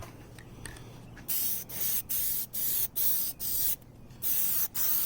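Aerosol Plasti-Dip being sprayed onto the grille of a BMW E90, a series of close, loud hissing bursts of about half a second each with short gaps between them, following a quieter stretch at the start.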